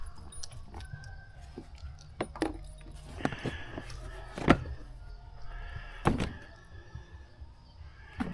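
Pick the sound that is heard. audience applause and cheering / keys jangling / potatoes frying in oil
keys jangling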